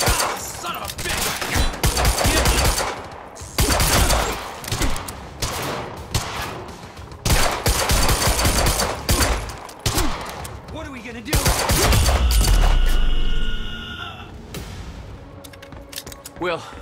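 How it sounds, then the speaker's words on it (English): Shootout in the video game Quantum Break: repeated bursts of loud gunfire and rapid volleys crack through most of the stretch, with people shouting over the shots and a heavier sustained rumble near the end. "Stop fucking shooting at us!"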